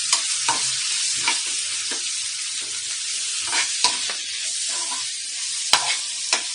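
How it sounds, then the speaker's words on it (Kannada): Broccoli with cumin and coriander powders fries in a pan over high flame while a spoon stirs it, making a continuous sizzle broken by repeated scraping strokes and occasional clicks of the utensil against the pan. "ಈ ಥರ ಮಿಕ್ಸ್ ಮಾಡ್ತಾ ಇರಬೇಕು."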